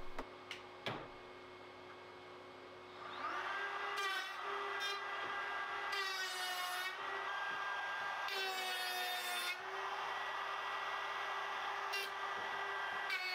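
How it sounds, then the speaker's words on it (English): A power saw makes several cuts with a dust extractor hooked up and running. The extractor drones steadily and close throughout, and the saw's rising harmonic whine surges in bursts over it, loudest in two longer cuts. "Now I can hook up the dust extractor and try making a few cuts."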